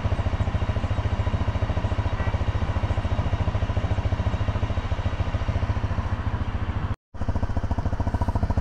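Loud, rough motorcycle exhaust with a broken catalytic converter rattling loose inside, running steadily in a fast, even pulsing idle close by in cold city weather near Omsk, with one brief dropout near the end.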